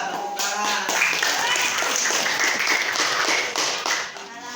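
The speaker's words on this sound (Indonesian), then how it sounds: "Ya, tepuk tangan." Students clap together in a classroom, a dense burst of applause that runs steadily for several seconds and then tapers off, with a voice heard under it.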